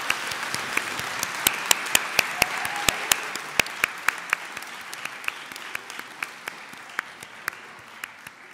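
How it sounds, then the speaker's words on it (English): Graduates at a Fife College 2022 graduation ceremony applauding in a large hall, steady quiet clapping with distinct sharp individual claps standing out, gradually thinning as it goes on. "give yourself a last round of applause"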